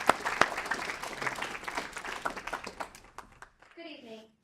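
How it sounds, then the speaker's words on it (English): Audience applause at an evening civic leaders forum, a steady wash of many hands clapping for several seconds that thins out and fades, with a voice starting to speak at the very end. "Give her a round of applause."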